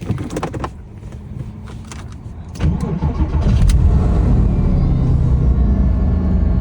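A Porsche Boxster engine cranks over and catches, then settles into a loud, steady rumbling idle close by.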